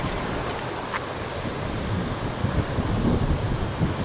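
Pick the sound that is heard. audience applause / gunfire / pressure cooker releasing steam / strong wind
strong wind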